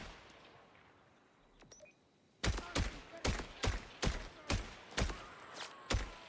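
Gunfire in the video game Borderlands: a sudden run of about ten sharp, loud shots at a fairly regular pace, preceded by a couple of quieter clicks and faint game sounds.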